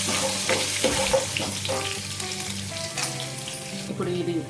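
Crushed garlic cloves hit hot oil already tempered with chana dal, cumin and mustard seeds, sizzling and crackling steadily up close, with occasional stirring, for a cabbage and coconut stir-fry.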